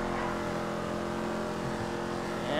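Car engine in a GTA 5 ramp race video game, a steady loud drone holding throughout with a slight rise in revs at the very end, no talk over it.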